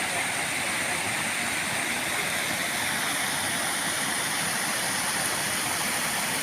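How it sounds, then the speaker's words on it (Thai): Water pours steadily over a weir across a stream that has filled after the rains, a dense, unbroken rush of close splashing with no voices. "ชมน้ำล้นสายน้ำล้นน้ำตกสายน้ำล้นนะคะ"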